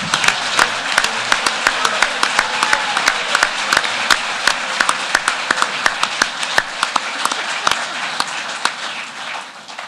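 An audience at a scholarly panel applauds Rudy, with many hands clapping in a crisp, sustained burst, individual sharp claps standing out near the front and the level fading slightly toward the end.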